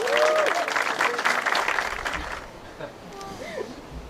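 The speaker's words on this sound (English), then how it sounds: "Round of applause for Rachel, please." Wedding guests at Pylewell Park applaud for Rachel, a dense burst of clapping with some crowd noise that thins out after about two seconds into scattered claps and murmurs.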